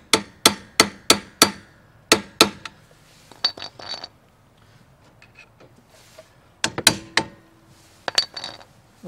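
Hammer blows on a trailer wheel bearing part being straightened, sharp metallic strikes in quick bursts of five, then scattered single hits with pauses and faint clinks between.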